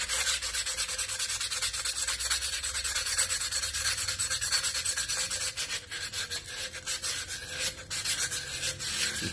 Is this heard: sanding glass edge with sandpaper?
yes